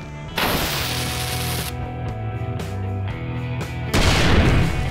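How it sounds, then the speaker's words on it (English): Dynamite detonating in the zombie survival game 7 Days to Die sets off a loud, sustained roar of blasts and rumbling debris that swells again near the end, with no voices. "We ought to put this dynamite to use, huh?"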